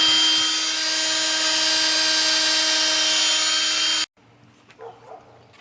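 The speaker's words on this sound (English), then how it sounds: "They wire wheel on the deck." A power wire wheel spins against an engine block deck with a loud, steady high-pitched whine lasting about four seconds, then stops abruptly, leaving faint shop sounds.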